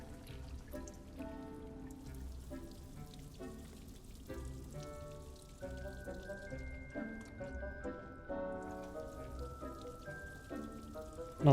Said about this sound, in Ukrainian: Зразу дощ пішов, все полив.